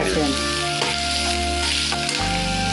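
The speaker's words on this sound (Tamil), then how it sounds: "வெங்காயம் நல்லா வதங்கணும்" Onions fry in a pan on a television cooking show. A loud, continuous sizzle runs throughout, with a steady low hum and tonal background underneath.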